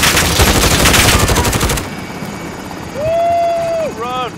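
Helicopter in the video game Call of Duty Modern Warfare, heavy rotor chop mixed with rapid gunfire for nearly two seconds, then a quieter stretch with a rising electronic tone and a voice talking.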